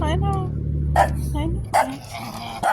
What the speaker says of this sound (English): She doesn't even know what she barks for half the time.